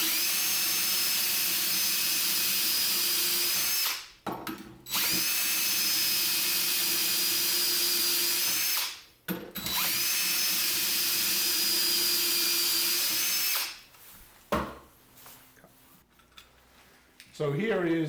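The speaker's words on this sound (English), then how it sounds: "I'm going to drill 3 holes." A drill bores holes into a wood piece clamped in a vise for angled dowel joinery, three loud sustained drilling runs separated by short pauses, with a final quieter stretch of shop noise.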